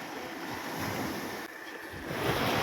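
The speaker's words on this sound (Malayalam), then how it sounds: "നല്ല കടലിലെ തിരയൊക്കെ ഇതുപോലെ നമ്മുടെ കാലിലേക്ക് വന്ന് പതിക്കുമ്പോൾ എന്താ ഒരു സുഖമല്ലേ" Sea waves wash onto a beach around the feet in a continuous loud surf rush, swelling and easing slightly with a brief dip midway, with no voices.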